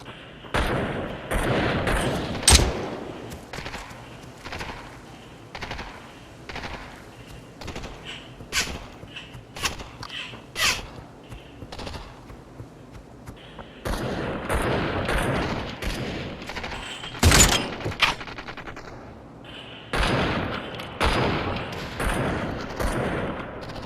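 Bursts of rapid gunfire ring out in the VR battle royale Population: One on Meta Quest 3, with loud automatic volleys and single shots that come and go over about twenty seconds, then brief pauses.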